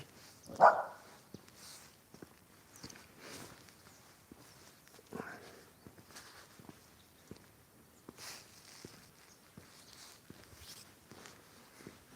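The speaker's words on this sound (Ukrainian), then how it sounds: "О, собака гавкає." A dog barks once, sharp but distant, on a quiet autumn morning in the Carpathian mountains, followed by soft footsteps and faint rustling outdoors.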